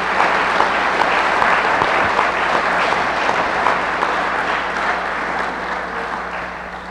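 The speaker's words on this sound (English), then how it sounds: "if you'd all join me in a round of applause for the committee as well" A seated audience at a university press conference gives a hiring committee a sustained round of applause, dense steady clapping that holds evenly and fades slightly toward the end.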